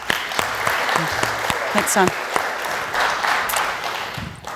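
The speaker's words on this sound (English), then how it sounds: "Please give a big round of applause" Audience applause at a panel discussion, a steady wash of clapping from a crowd lasting several seconds, with a speaker's voice heard over it.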